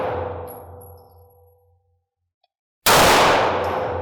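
A 9mm handgun fires at a target on an indoor range. A long ringing tail fades to silence, then one sudden, very loud blast sounds close by and stays loud.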